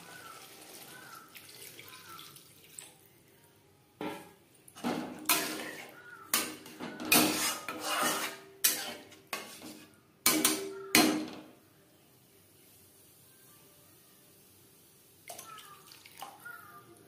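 Water is poured into a pan of spiced masala for a tilapia fish curry, coming in several splashing bursts, close and moderately loud, then stopping before a few faint clinks.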